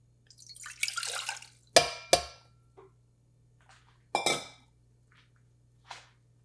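About 250 ml of water splashes into a metal saucepan in a short pour, followed by a few sharp clinks and scattered drips against the quiet.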